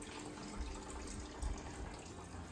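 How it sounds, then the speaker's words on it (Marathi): Cooled water poured slowly into a jar of cucumber pickle, a soft, continuous trickle and splash with a few louder glugs, close by. "हे थंड झालेलं पाणी आता या काकड्यांचा जो जार आहे त्या जारमध्ये असं हळूच टाकायचं"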